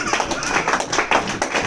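A church congregation, including children, applauds: dense, steady clapping that fills the room, loud and close, with a few stronger swells throughout.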